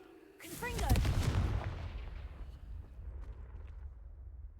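A Confringo fire spell in the Hogwarts Legacy video game bursts with a loud blast and a crackling whoosh, then decays into a rumbling tail that fades over several seconds.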